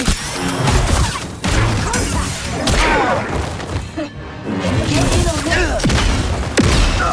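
Gunfire in Star Wars Jedi Survivor comes as loud, close bursts of shots and impacts, thuds and crashes packed into a dense, continuous fight with brief gaps, mixed with voices shouting during combat.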